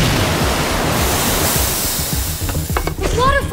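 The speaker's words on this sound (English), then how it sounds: "Waterfalls!" Rushing waterfall in the video game Minecraft: Story Mode Season 2, a loud continuous roar of falling water filling the scene, with a few brief tonal game sounds near the end.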